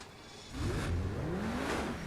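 A car in the GTA 5 video game accelerates hard and revs, its engine note rising steadily and loud after a quieter start, with no talk over it.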